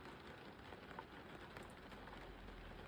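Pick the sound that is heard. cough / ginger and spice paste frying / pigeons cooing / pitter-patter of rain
pitter-patter of rain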